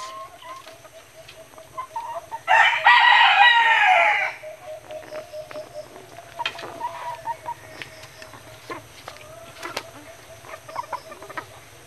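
A captured wild junglefowl rooster (labuyo), about a year old, gives one loud close crow lasting a couple of seconds, then soft repeated clucks over a continuous low background hum.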